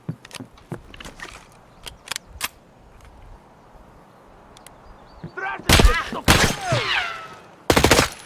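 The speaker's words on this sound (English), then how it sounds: "Where was he shooting at me from?" Gunfire in the video game Escape from Tarkov on the Woods map, with a scatter of distant sharp shots followed by louder, closer bursts of fire and a player's voice reacting between them.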